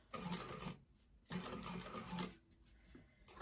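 A sewing machine stitches slowly along a decorative curve on a vintage-style expandable tote, running in two bursts of rapid mechanical whirring with short pauses between them and a brief softer run at the end.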